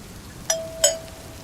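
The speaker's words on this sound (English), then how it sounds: "The doorbell" A doorbell rings twice, two clear chimes about a third of a second apart, with quiet between.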